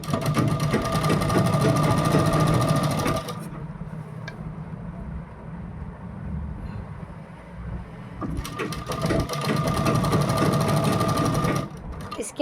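A sewing machine runs steadily while stitching a kurti neckline set on buckram, pausing for a few seconds midway before resuming at full pace, close and loud.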